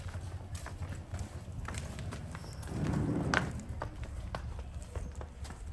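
A mare walks with steady clip-clopping hoofbeats on the ground, moderately close, against a low rumbling outdoor background that swells briefly in the middle.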